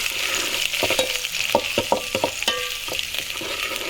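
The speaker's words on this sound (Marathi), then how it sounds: "कढीपत्ता फोडणीमध्ये टाकला ना की भारी फोडणी होते बघा" Garlic and curry leaves sizzle hard in hot tempering oil for a village-style mutton curry cooked over a wood-fired clay stove, a steady crackling hiss broken by sharp pops and stirring clatter, close and alone without voices.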